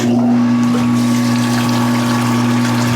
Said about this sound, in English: I'm gonna pump it over into my mash tun.